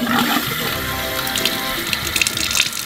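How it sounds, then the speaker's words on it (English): Water gushes and splashes from a faucet into a newly renovated bathroom sink, a steady close rush with small bursts of spatter, no voices. "Oh my God, we have water."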